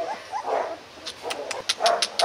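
Young Rottweiler puppies, only just opened their eyes, yip and whimper in a rapid series of short high barks and whines, close and fairly loud, scattered across the moment with soft pauses between them.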